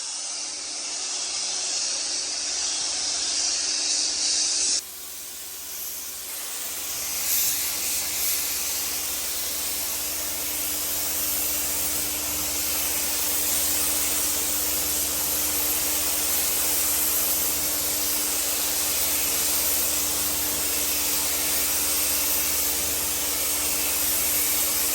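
A spray gun lays a red paint coat onto a truck bed for a 1965 Chevrolet C30 dually, a steady, loud hiss after a brief quieter start, running on unbroken with a faint compressor hum beneath.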